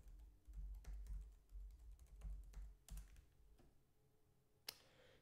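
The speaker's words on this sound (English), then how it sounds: "Let me type it in." Fingers tap out text on a computer keyboard in a quiet room, quick uneven keystrokes close by and soft, ending with one sharper click.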